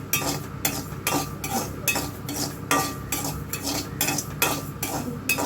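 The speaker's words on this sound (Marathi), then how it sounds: "वरीचे तांदूळ त्याच पद्धतीनं हलकेसे नॉर्मल असं गरम करून घ्यायचं" Barnyard millet rice dry-roasting in a pan, stirred with a spoon in a steady run of scraping strokes about twice a second, with light grainy rustle and faint clinks, close and alone.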